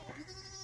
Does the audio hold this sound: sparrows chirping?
no